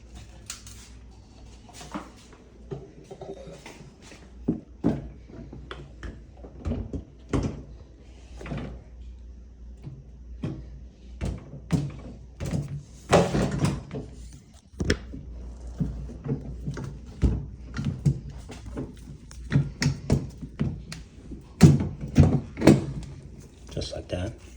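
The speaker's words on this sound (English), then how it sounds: "Now you're going to be hanging the door." A Samsung refrigerator door being hung onto its hinge, with repeated knocks, clunks and rattles of the door and hardware at close range, interspersed with a person talking throughout.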